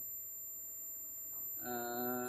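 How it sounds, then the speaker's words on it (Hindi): A multimeter sounds a continuity beep while testing the petrol injector wiring on a Suzuki Swift with a misfire. After a quiet stretch, a steady electronic tone starts partway through and holds to the end at moderate volume. "बीप साउंड आ रहा है मल्टीमीटर में"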